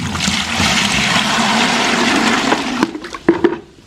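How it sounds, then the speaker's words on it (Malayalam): Liquid pours steadily into water with a continuous splashing rush, then breaks into a few sputtering splashes and drips as the flow stops. "കുറച്ച് വെള്ളത്തിലേക്ക് നമുക്ക് ഒഴിച്ചേക്കാം"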